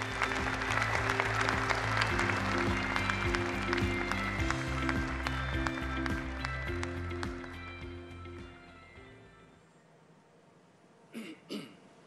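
At the KFX fighter prototype rollout ceremony in a Korea Aerospace Industries factory, a large crowd applauds guests with dense, sustained clapping over ceremonial music, fading out before a few coughs.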